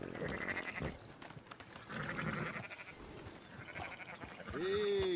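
Several bleats from sheep in Red Dead Redemption 2, with a louder, clearer one near the end, set against steady game ambience and rustling.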